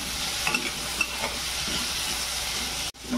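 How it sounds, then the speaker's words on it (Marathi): Guava vegetable curry with salt stirred and sizzling in a pan, with a spoon scraping and clinking against the metal over a steady frying hiss, close up. "आणि याच्यात आता मीठ टाकायचं, ढवळून घ्यायचे."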